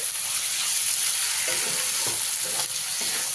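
Onion paste fries with snake gourd in a pan, giving a continuous bright sizzle close by, broken by a few scraping stirs of a spatula.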